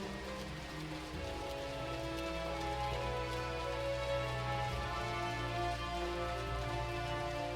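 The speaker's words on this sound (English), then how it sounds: "See, it's raining in Lanosia today." Steady, dense rain patter in Final Fantasy XIV fills the scene, with a low droning musical bed underneath and no talking.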